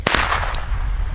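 A Comet Cracker firecracker goes off with a sharp, loud bang and a quick second crack just after it, then a brief echoing tail. No one talks.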